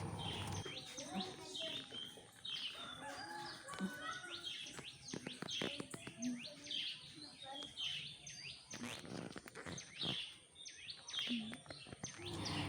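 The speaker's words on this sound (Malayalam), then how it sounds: "പൂക്കളും കുരുവികളുടെ ശബ്ദവും എല്ലാം കൂടെ മനോഹരമായ ഒരു പ്രഭാതം." Sparrows chirp in a garden of flowering morning glory on a morning, with rapid overlapping tweets close by and steady birdsong throughout.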